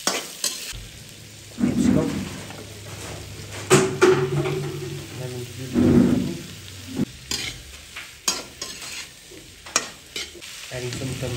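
Chopped onion dropped into a pan and frying, a close sizzle that swells with stirring and clattering utensil knocks, with clanks at uneven intervals.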